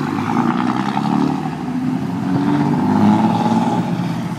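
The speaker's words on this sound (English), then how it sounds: "God, that truck is so loud." A loud truck passes along a city street, its mid-range engine roar swelling and holding steady over several seconds close to the listener, with no talking over it.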